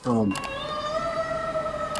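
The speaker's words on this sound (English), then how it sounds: "there's a siren playing in the background right now" A wailing siren drifts in the background on a golf course, its rising and falling tone steady after a brief burst of talk at the start.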